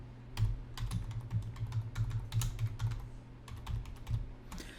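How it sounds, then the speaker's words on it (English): Typing on a computer keyboard while writing a cold email: close, clicky keystrokes in uneven bursts, with brief pauses between runs of keys and no talking. "And then just type in whatever you want."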